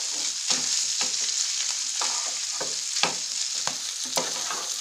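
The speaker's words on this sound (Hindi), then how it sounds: "मैश किए हुए आलू और मटर। सबको अच्छे से मिक्स कर लेंगे।" Mashed potatoes and peas are stirred together for a suji kachori filling, with soft scraping and mixing strokes recurring every half second or so over a steady sizzling hiss, close and moderately loud, with no talking.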